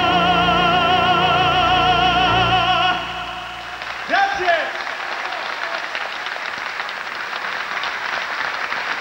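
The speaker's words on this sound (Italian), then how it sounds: "Bello sentire gli applausi del pubblico" Audience applause breaks out after a sung love song ends, the music fading first and then a broad, steady wash of clapping sustaining for several seconds from a large crowd.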